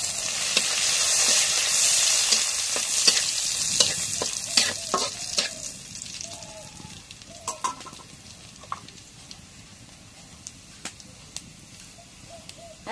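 Bay leaves and spices frying in hot oil in a village kitchen, a steady sizzle that fades gradually, with scattered scraping stirs and clicks, close by, and faint bird clucks in the background.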